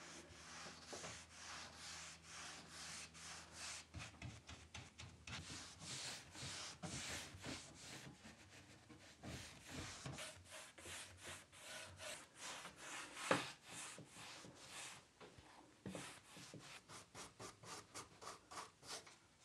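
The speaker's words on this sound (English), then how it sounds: "we're using Annie Sloan clear wax with the waxing brush" A waxing brush works Annie Sloan clear wax into a faux wood finished piece of furniture, with rapid repeated scrubbing strokes of bristles on wood, close and fairly quiet, alone with no talk.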